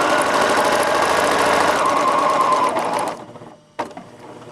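A sewing machine runs a straight line of stitching, a loud, close, steady whirring rattle for about three seconds before winding down, followed by a sharp click and quieter handling.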